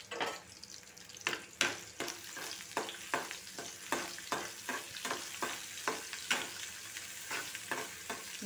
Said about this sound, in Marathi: चला तर मग आपण आता फोडणी देऊया